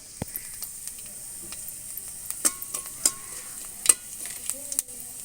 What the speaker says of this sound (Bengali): কড়াইতে দিয়ে দেব সামান্য তেল, সামান্য জিরা, আর এখানে আমি নিয়েছি ধনিয়া গোটা দিয়ে দেব।